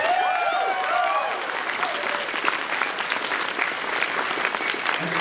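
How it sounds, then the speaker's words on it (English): A crowd claps steadily for several seconds at a furry convention closing ceremony, the dense applause sustained and fairly loud throughout, with a few bright whistles near the start. "Please give them a round of applause."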